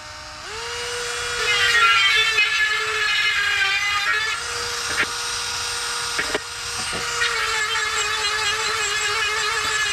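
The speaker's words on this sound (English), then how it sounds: "We're going to take a Dremel, sand down the threads on the inside a little bit." A Dremel rotary tool sanding down the threads inside a metal fitting, a steady high-pitched whine that runs nearly the whole time with small pitch dips as the tool bites, loud and close with no voices.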